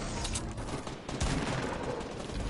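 Pistol shots in the video game Fortnite blur into a dense, continuous burst of loud gunfire and game noise that fills the whole short stretch, with no clear gaps between shots.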